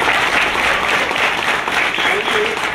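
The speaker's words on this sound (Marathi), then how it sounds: "पहिल्यांदा सागर साहेबांच्या आई वडिलांसाठी जोरदार टाळ्या वाजवा सगळ्यांनी" An audience at an old-age home and recreation centre inauguration in Kolhapur applauds steadily, a dense, loud wash of clapping filling the whole stretch.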